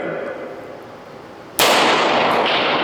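A Pistelle X-68 air pistol fires a loud, sharp report that cuts abruptly through a steady mechanical whir and is followed by a sustained bright hiss.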